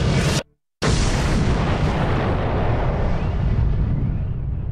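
A huge booming explosion effect standing in for the Big Bang, heard loud and alone after a brief silence, with a sustained rumbling roar that slowly fades across several seconds.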